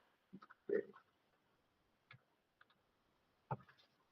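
Computer mouse clicks while adjusting trading platform settings, a few sharp, quiet clicks spread out with gaps of near silence between them, close and faint.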